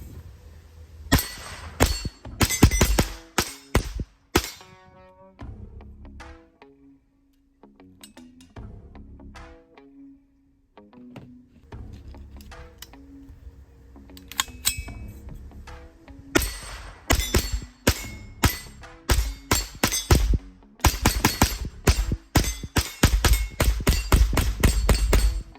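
Rapid strings of .22 LR high velocity 42 grain rounds fired from a JP-15 Ultralite rifle at a range, crisp close cracks with metallic clangs, a quieter gap in the middle before dense volleys resume.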